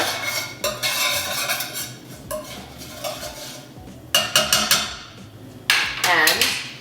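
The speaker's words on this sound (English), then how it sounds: "Give it a stir." A spoon stirs a spice tempering for chana masala in a pot, sharp metallic clinks and scrapes in bursts over a faint sizzle, close and loud, with a brief voice near the end.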